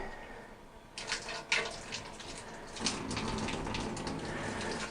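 Hot water gushes from a shower tap, starting abruptly and running as a steady, close hiss of flowing water with a few splashy surges, no talking.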